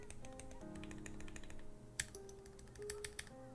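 Keys tapped on a small Keychron Q0 numpad fitted with Durock Lilac T1 switches, a quiet run of clacky presses close by, with one key carrying a rattly stabilizer and a sharper tap near the middle.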